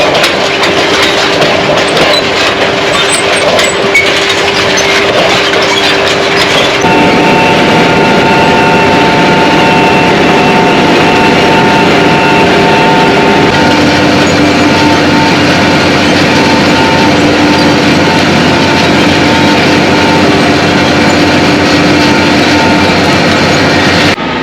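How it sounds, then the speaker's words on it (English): A tractor engine hauls a 60ft chisel plow through a field, a loud, steady low drone with sustained harmonic tones that shift in pitch partway through as the load changes, running continuously with no talk. "you can actually watch the chisel plow"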